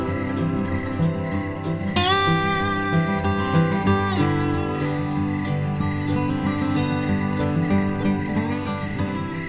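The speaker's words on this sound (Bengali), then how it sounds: "আর ঝিঝি পোকার শব্দ তোমাদের আগেই বলেছি।" Crickets chirp steadily through an evening at a holiday resort in Bishnupur, Bankura, a dense insect trill layered with tonal sounds and a sharp whistle-like call partway through.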